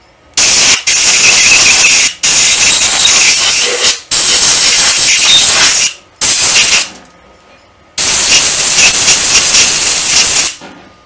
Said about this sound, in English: I also need some compressed air, because I'd like to blow out this hole first